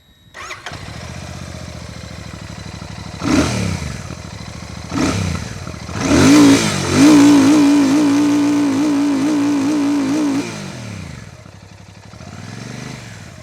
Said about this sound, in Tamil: இப்போ இதை ஜஸ்ட்டு ரெவ் பண்ணி இதோட பீட் எப்படி இருக்குது அப்படிங்கிறத இப்போ நம்ம செக் பண்ணி பார்ப்போம்